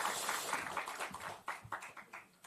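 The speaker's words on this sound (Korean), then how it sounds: "장 대표를 격려하는 박수 한번 같이 좀 해주실까요?" Faint applause at a political party gathering encouraging the party leader, a soft patter of many hands that thins out toward the end into a few scattered, separate claps.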